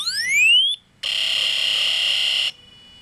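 Iron Man Unibeam chest prop in blast mode lets out a loud, steady high-pitched electronic blast tone lasting about a second and a half, after a brief rising charge-up whine, with no talking.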